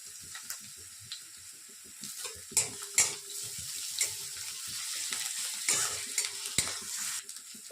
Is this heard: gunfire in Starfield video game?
no